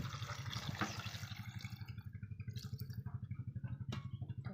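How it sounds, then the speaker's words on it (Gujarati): Water pours into a pressure cooker over potatoes, a steady close splashing stream with a faint pulsing hum beneath it and no talking. "હવે આપણે એમાં નાખી દઈશું પાણી"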